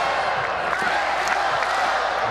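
A volleyball crowd at a Hawaii versus UC Davis women's match makes a continuous roar of cheering and shouting that fills the arena at a steady, fairly loud level, with a few whoops rising above the noise.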